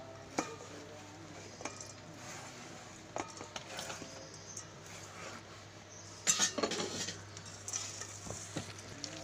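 A spoon stirs batter with onions, green chillies and curry leaves in a bowl, soft scraping and occasional clinks against the rim, close and fairly quiet with a brief louder rattle midway.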